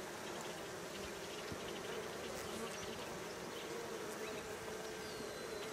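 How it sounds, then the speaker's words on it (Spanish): A swarm of bees buzzes around a large exposed honeycomb during a bee rescue. The dense, steady hum holds at a constant level for the whole stretch, with no talk over it. "Hay unas abejas que llevan como unas bolitas en las patas"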